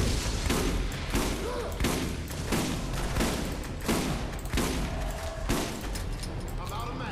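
Shotgun fire in the video game Borderlands, a rapid run of loud, punchy blasts at roughly regular intervals close up, with players talking over the shooting.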